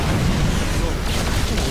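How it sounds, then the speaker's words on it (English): Yamato cannon blast in StarCraft, a dense, loud rumbling boom sustained across the whole moment, with game effects layered thickly underneath. "Yamato cannon this."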